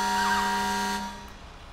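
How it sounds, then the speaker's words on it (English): Fire truck air horn on a Bulldog Extreme 4x4 brush firetruck in GTA 5, one loud, steady, harmonic blast held for about a second before cutting off, leaving a quieter tail. "I'll let you guys hear the air horn."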